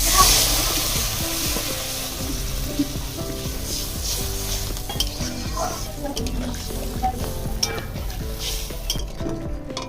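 Water poured into fried spice masala in hot oil sets off a burst of sizzling that settles into steady bubbling, with light utensil clinks.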